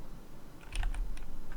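Computer keyboard keys tapped while playing a strategy video game: a short burst of several quick, close, light clicks in the second half, alone with no voices.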